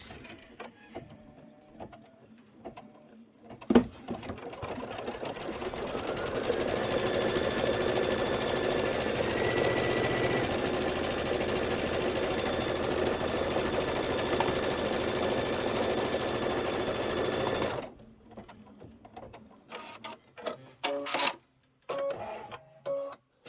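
An embroidery sewing machine stitches out a design, starting after a click and running as a loud, steady, rapid mechanical whir with rhythmic clatter for about fourteen seconds, then stopping, followed by scattered handling sounds.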